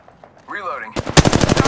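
Rapid automatic gunfire in the battle royale game Apex Legends bursts in loud and close after a short electronic whirring tone, a fast run of sharp shots that carries through to the end.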